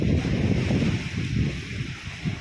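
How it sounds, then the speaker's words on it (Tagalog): Strong wind blowing outdoors during kite season, a continuous rough rumble buffeting the microphone with gusty swells and no voices. "lakas ng hangin"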